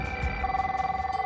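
A telephone ringing sound effect, a steady electronic ring with a throbbing pulse, moderately loud and continuous, with no talk.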